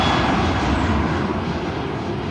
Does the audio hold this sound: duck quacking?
no